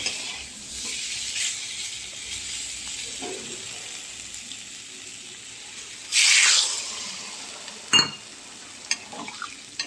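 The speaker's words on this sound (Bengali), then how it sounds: "দেখো মশলা আমার পুরো ভাজা হয়ে গেছে এবারে আমি এর মধ্যে জলটা দেব" Water splashes into spices frying in hot oil for a tilapia fish curry, raising a loud, sudden hiss of sizzling that bursts out after a quieter stretch of gentle frying and stirring, with a short sharp clatter following.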